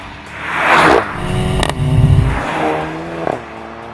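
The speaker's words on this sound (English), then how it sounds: "it makes the car emit this great sound on upshifts" A Volkswagen Golf GTI MK7 with a DSG gearbox accelerates past, engine note rising through gears, with sharp crack-like bursts on each upshift, moderately loud and close.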